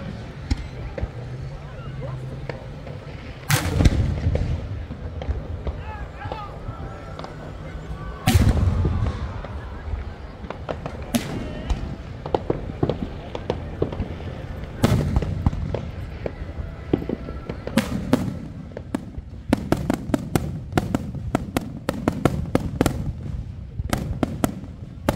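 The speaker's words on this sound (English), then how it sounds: "Oh, firework time." Fireworks exploding outdoors during an Eve of Destruction event with Chrysler vehicles, a long sequence of loud booms and sharp cracks, sparse at first then building into rapid clustered bursts near the end.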